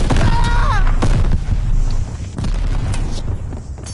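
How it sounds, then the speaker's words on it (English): Sticky bomb blast in Call of Duty Vanguard, a loud booming explosion among constant battlefield noise and distant game voices, with a dense rumbling tail that eases after about two seconds. "Using a sticky bomb."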